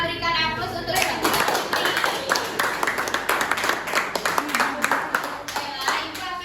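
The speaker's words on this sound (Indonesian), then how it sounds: "berikan aplaus untuk" A classroom of children bursts into applause, many hands clapping in a lively, uneven patter that runs nearly the whole time, with scattered kids' voices mixed in.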